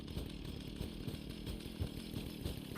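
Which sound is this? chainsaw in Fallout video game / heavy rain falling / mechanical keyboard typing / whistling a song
chainsaw in Fallout video game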